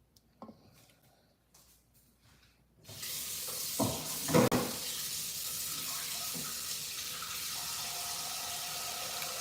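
Liquid pours steadily into a bowl, a broad wash of splashing and trickling that starts abruptly after a few quiet seconds of faint handling noises, with a brief louder splash near the middle, then continues evenly to the end.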